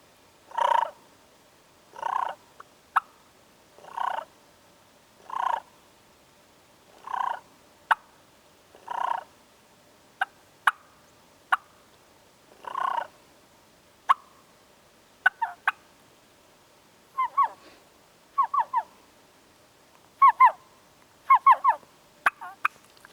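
Mouth turkey call imitating a hen, a voice-driven series of evenly spaced clucks followed by quicker whining yelps in short clusters, fairly close and alone against a quiet background.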